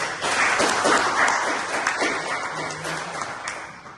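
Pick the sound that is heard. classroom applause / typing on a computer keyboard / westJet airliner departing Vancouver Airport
classroom applause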